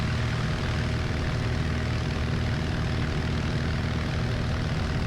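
Small single-engine propeller airplane on its takeoff roll down a runway, a steady loud engine drone with propeller buzz and wind rush holding constant throughout, no talk.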